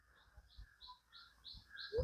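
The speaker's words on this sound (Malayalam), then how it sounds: "കുരുവി കരയണതും പ്രാവ് കരയണതും" Small birds chirp in a steady series of short calls with a faint dove-like coo among them, heard in a quiet forest village setting with a soft thump at the very end.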